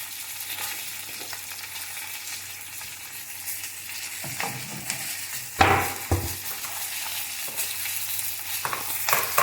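Fenugreek seeds roasting and being stirred in a pan for mango pickle: a steady soft sizzle with scraping stir strokes and a few louder clinks of the spatula against the pan, close and alone.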